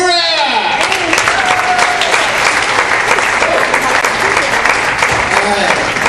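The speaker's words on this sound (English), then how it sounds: "Please make some noise for Mr. Dan Kimura!" A stand-up comedy audience applauds and cheers as a comedian is welcomed to the stage, a dense, steady roar of clapping that starts just under the host's announcement and keeps going.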